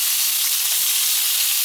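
Wagyu steak fries in a hot pan, giving a loud, continuous sizzle that stays dense and steady from start to finish, with no talk.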